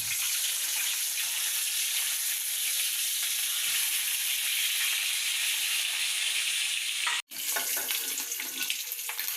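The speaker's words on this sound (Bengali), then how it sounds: "তেলের মধ্যে ভেজে নিতেছি" Eggs frying in hot oil for egg korma give a steady, dense sizzle that runs loud and close throughout, broken by one brief dropout near the end before the crackle resumes.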